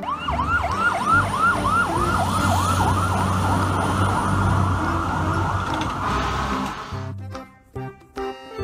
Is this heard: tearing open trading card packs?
no